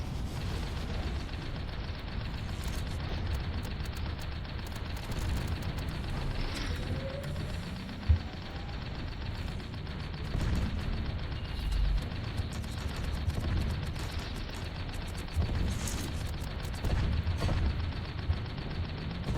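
A grenade explodes close to the player's tank in the online tank battle game Tanki Online, a sharp blast amid constant rumbling machinery and scattered gunfire that stays loud and dense throughout.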